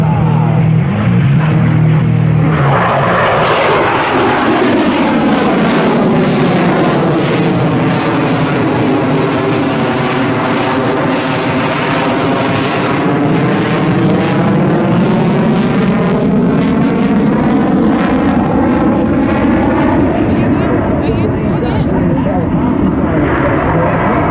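C-17 transport aircraft circling slowly over an airshow airfield, a loud sustained jet roar that rises and shifts in pitch as it passes, steady for over twenty seconds with crowd noise mixed in.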